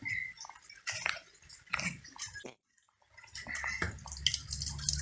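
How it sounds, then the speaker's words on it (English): Steady splashing and trickling water with wet gurgles flows through a downspout drain pipe close by, pausing briefly midway before flowing again. "Here's the water flowing."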